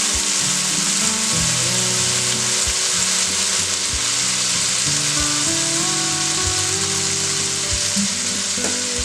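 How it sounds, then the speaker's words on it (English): Minced garlic sautéing in a hot pan, a loud steady sizzle and crackle close up with soft stirring taps, no voices. "we're going to let this saute for approximately 30 seconds until it's fragrant"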